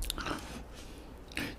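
Someone bites and chews kimchi cup ramyun noodles with Spam, two short crunchy bites close to the ear separated by quieter chewing, faint and brief.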